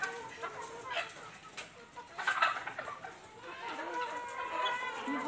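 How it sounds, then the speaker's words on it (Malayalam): A black Karinkozhi rooster and hens cluck in short, uneven bursts close by, with a faint voice now and then amid the farmyard chatter. "പിന്നെ കരിങ്കോഴി ചേവലെയും പിന്നെ കോഴികളെയും ഞങ്ങൾ കാണിക്കാൻ പോകുന്നു."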